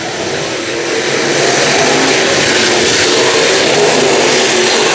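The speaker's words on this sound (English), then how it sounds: "He's going to get into lap traffic here with the 91 of Andrew Jenkins." Dirt-track race cars howl steadily around Brownstown Speedway during a feature race, a dense, continuous engine roar with a pack running through lapped traffic, loud and without pause.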